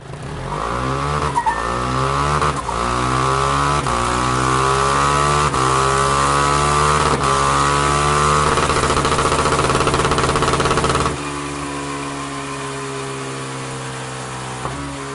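A 2018 Husqvarna 701 motorcycle engine revs hard and continuously, its pitch sweeping up and down in repeated climbs before settling to a lower steady drone near the end, loud and close.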